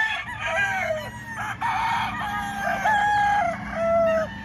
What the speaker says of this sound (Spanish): Aquí tengo algunos gallos.